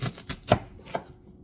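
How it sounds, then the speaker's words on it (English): A knife chops ingredients for jerk sauce into smaller pieces on a cutting board, giving four or five crisp, uneven strikes close by before falling quiet. "And then I just chop it"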